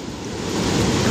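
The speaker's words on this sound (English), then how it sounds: "He's going to grab another wave here. Riding it into shore." Ocean waves rolling into shore at Del Mar Dog Beach, a broad surging wash of surf with wind rumble on the microphone, building slightly in loudness, no voices.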